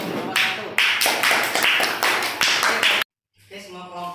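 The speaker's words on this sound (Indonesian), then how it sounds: "Kasih tepuk tangan untuk kelompok 1." Bursts of clapping for group one's recycled straw wall decoration at a school project session, loud and choppy with repeated strong claps, cutting off abruptly before quieter voices return.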